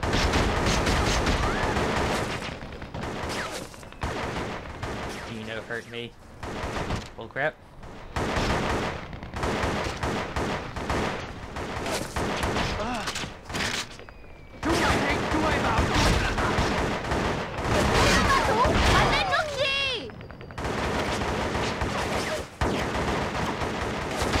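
Gunfire from the PS2 video game Shellshock Nam '67 comes in repeated loud bursts and single shots with short pauses between, mixed with game sounds and occasional voices.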